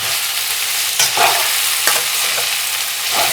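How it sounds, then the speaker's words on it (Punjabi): Okra pieces frying in oil in a pan are stirred steadily, a continuous sizzle broken by a few sharp scrapes of the spoon against the metal, close and fairly loud with no voices. "ਜਦ ਤੱਕ ਪਿੰਡੀਆਂ ਦੀ ਲੇਸ ਖਤਮ ਨਹੀਂ ਹੁੰਦੀ ਤਾਂ ਉਸ ਨੂੰ ਤੁਸੀਂ ਚਲਾਉਂਦੇ ਹੀ ਰਹਿਣਾ ਹੈ"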